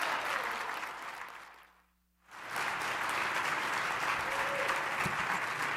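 Dense audience applause at a political conference panel fills the room, briefly cut to near silence midway before resuming just as full and steady, with a faint murmur of crowd underneath.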